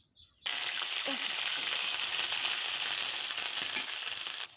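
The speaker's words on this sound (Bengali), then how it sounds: "তেলটা গরম হয়ে গেছে, আমি পেঁয়াজের পেস্টটা দিয়ে দেবো।" Onion paste hits hot oil with a sudden loud burst of frying that settles into a strong, steady sizzle, close and continuous until it cuts off, with a brief low murmur before it starts.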